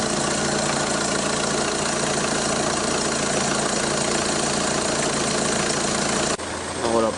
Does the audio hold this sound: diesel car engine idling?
yes